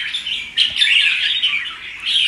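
A songbird kept for sale chirps in a bright, continuous run of high tweets, close and clear, lasting a couple of seconds with no talk over it.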